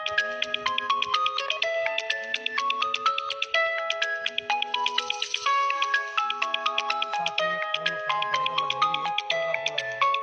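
A phone ringtone plays a bright repeating electronic melody, loud and continuous, cycling through the same phrase several times without any talking.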